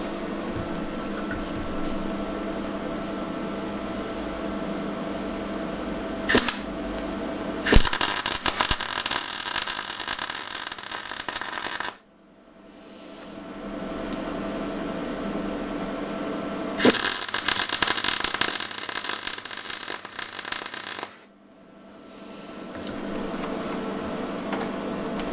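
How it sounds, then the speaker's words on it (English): Small metal pieces are welded for a battery relocation on a Mazda RX8, heard as two loud, close bursts of steady crackling buzz, each several seconds long, separated by quieter hum and silence. "So let's weld these on."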